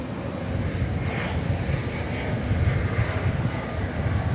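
An airliner's jet engines roar at DFW airport at night as a plane lines up for takeoff, a steady loud rumbling drone heard from fairly close, with no talk.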